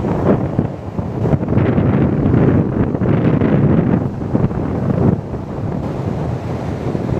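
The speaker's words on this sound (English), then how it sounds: "What a beautiful ocean." Wind and ocean surf roll steadily across an empty beach near sunset, a broad continuous roar with rising and falling wave swells, loud and close, with gusts buffeting the microphone.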